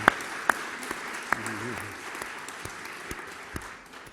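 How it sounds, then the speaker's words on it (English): Sparse, scattered claps with a low murmur of talk underneath, more like a small group clapping lightly than a full ovation. "you are being applauded all around the world"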